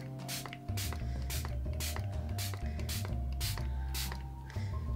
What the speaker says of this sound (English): the more that you spritz, you see here, the more it will start running